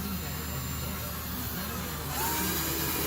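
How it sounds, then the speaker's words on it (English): A power drill drives screws into the boards of a raised garden bed, giving a steady, close motor whir that runs throughout, rising slightly in the last second, with voices faintly underneath. "He's adding some screws to it."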